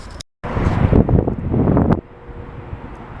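Gusty wind buffets the microphone in a loud rumbling burst for about a second and a half, then drops to a quieter steady rush outdoors.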